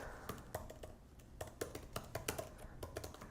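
Fingers tap out project notes on a MacBook keyboard, a quiet, uneven patter of soft key clicks with small pauses between bursts.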